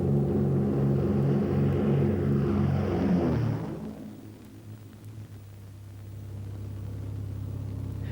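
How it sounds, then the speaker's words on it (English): An aircraft drops fire over Western Australian forest on a prescribed burn: a loud, rough engine drone for about three and a half seconds, then it falls away into a quieter, steady low hum. "This aircraft is on a bombing mission to set fire to the forests"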